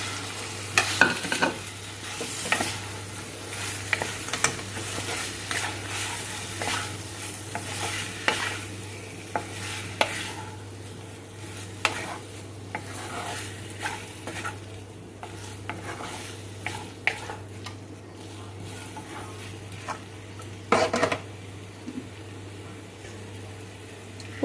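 Gathi, a fermented fish dish, being stirred with spices in a sizzling pan, repeated scrapes and knocks of a spatula over a low steady fry, fairly close, with no voices.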